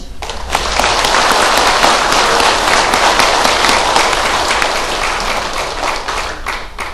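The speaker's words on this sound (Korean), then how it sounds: "박수 한번 주십시오" An audience applauds together at a Korean briefing session on compensation claims for Pacific War victims: loud, dense, sustained clapping from a roomful of people that swells quickly and then slowly tapers off.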